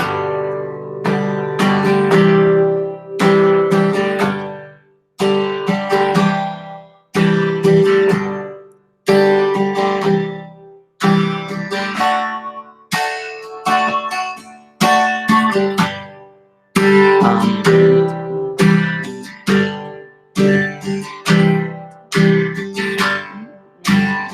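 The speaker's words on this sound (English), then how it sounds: "we're going to do a slightly different strum pattern." An acoustic guitar strums chords in repeated bursts, each phrase ringing then cutting off, played close and alone in a steady rhythmic pattern.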